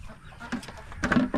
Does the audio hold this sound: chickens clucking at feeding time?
yes